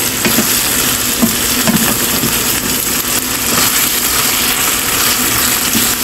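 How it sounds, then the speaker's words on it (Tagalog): Pork adobo frying in its own rendered fat in a pan, a steady loud sizzle with scattered crackles and pops throughout. "Ipirituhin lang natin siya sa sarili ng mantika."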